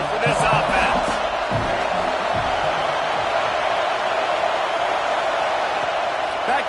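A huge football stadium crowd at an Auburn at Georgia game roars steadily and loudly, a dense, continuous wall of noise with faint voices mixed in.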